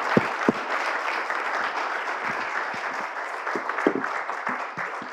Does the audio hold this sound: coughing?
no